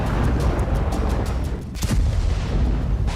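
Artillery shells being fired in a war zone, heavy booming blasts over a dense rumbling din, with one sharper report standing out midway.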